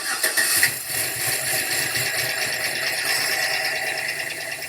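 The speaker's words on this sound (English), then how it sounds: "She's chugging. She's barely running." A rough-running vehicle engine with internal engine noise, chugging and barely running, a loud steady close drone with rattling texture throughout.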